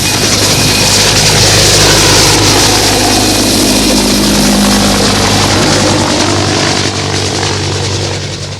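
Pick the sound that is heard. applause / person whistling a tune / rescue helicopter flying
rescue helicopter flying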